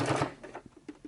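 A sewing machine running slowly while stitching a fabric cover for a junk journal, giving a short, quiet run of soft mechanical clicks and taps close by.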